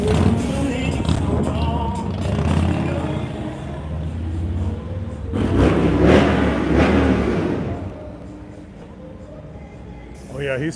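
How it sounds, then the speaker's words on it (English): A motorcycle revs on a busy North Beach street in San Francisco, a loud engine swell rising and holding mid-clip amid steady traffic rumble and city noise, with someone talking over it. "A motorcycle blasting his music."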